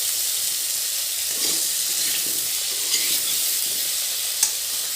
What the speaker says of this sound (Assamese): এতিয়া আলুখিনি ফ্ৰাই কৰি ল'ম